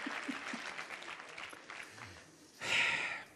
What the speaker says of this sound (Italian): Un applauso a Robecchi.